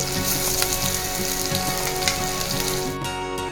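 Onions with turmeric and salt frying in a pan for bread bonda filling, a steady close sizzle with crackling pops and a brief stirring scrape near the end.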